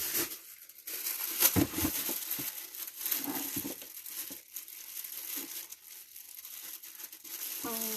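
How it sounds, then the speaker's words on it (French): A plastic bag being unwrapped from an unboxing haul gives a steady, close crinkling and rustling that lasts throughout, with small crackling bursts and no voices. "il me reste un sac à déballer de cette boîte-là"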